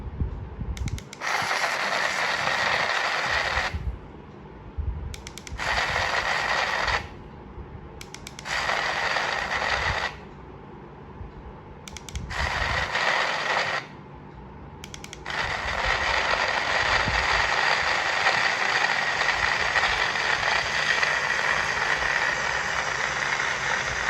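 A portable USB juicer blender runs with a loud, steady motor whir that cuts out and restarts several times when overload is sensed, then keeps running without a break toward the end.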